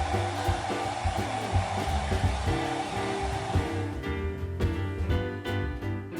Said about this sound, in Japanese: ドライヤーで髪を乾かす